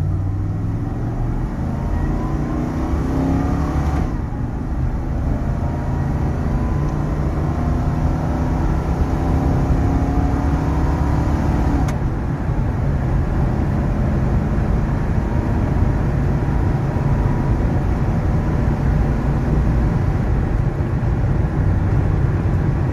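A 1986 Ford F150 XLT Lariat bullnose pickup with 43k original miles cruising down a highway, a constant loud low engine and road rumble with wind noise filling the cabin throughout.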